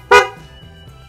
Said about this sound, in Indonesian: Terus suara klakson